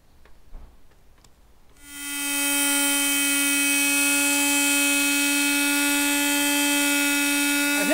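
A power polisher buffs an old plastic convertible rear window with acrylic polish, starting after a few faint taps and then holding a loud steady high whine for the rest.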